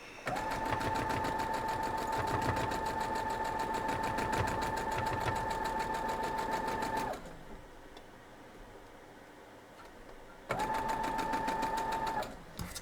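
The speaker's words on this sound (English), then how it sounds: "we're going to go sew this together" A sewing machine stitches a quilt block in a fast, even mechanical whir with a steady hum, running about seven seconds, pausing briefly, then resuming for another short burst, close and alone.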